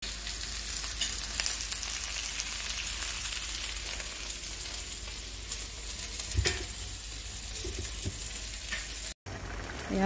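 Whole cumin seeds and onion frying in hot mustard oil for a chicken curry, a steady close sizzle and crackle lasting throughout, with a brief clatter partway and no talking.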